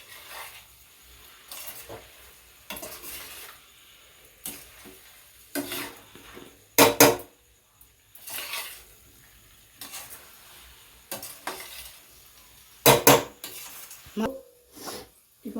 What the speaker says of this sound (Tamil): நல்லா எண்ணெயில் வதக்கணும் காய்